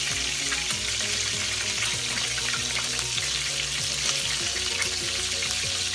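Meatballs for a Southern meatball stew sizzle and fry in oil in a pan, a dense, steady crackle with scattered pops running close and loud throughout, no voices.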